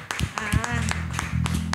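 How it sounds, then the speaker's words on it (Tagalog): A church congregation claps loudly in a steady beat, sharp hand claps landing about every half second over voices and music. "Bigyan nga natin ng malakas sa palakpak ang Panginoon."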